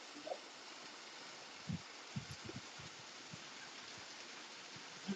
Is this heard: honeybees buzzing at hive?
no